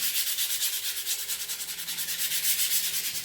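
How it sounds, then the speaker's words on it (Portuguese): Fine sandpaper rubbed by hand over a painted plaque with a faux-linen finish, gradient and stencil paste, a steady close back-and-forth scratching at a quick even rhythm, with no talk over it. "Uma lixa, eu uso lixa bem fininha, não gosto de usar lixa muito grossa."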